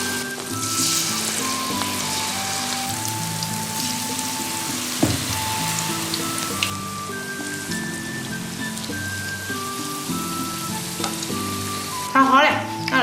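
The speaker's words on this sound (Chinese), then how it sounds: "放到油锅里炸。" Battered sweet potato leaves deep-frying in a pot of hot oil give a steady, dense sizzle throughout, with soft background music and a brief clatter near the end.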